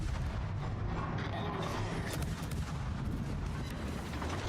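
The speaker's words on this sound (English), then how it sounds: "Oh, torpedo hit on something else too" Explosions and heavy gunfire rumble continuously through a naval video game battle as torpedo hits land, with dense booming bursts and crackling impacts layered over a constant low roar, loud and close.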